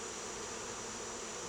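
Honeybees from a swarm buzz steadily around their hive, a dense continuous hum filling the whole short stretch at close range with no voices.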